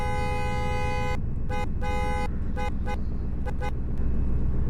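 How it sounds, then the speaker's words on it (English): A small pickup truck's horn sounds close and loud: one long blast, then a string of short, uneven honks over a low idling engine. "Here's what its horn sounds like."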